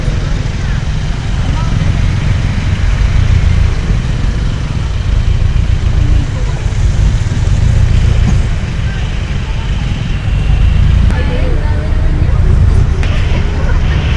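Steady low rumble of city road traffic heard from inside a moving vehicle, engines and tyre noise droning continuously at close range with occasional bumps.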